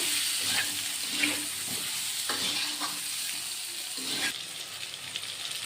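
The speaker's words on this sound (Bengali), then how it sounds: "এইভাবে পটলগুলো নেড়ে নেড়ে ভেজে নেব।" Steady oil sizzle of pointed gourd frying in a pan, broken by several scraping stirs of a spatula at irregular intervals, close and moderately loud.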